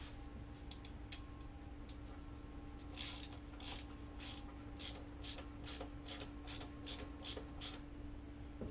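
A wrench tightening the composite plastic oil filter housing cap on a Chrysler 200 gives a run of faint, quick ratcheting clicks in a steady rhythm over a low background hum.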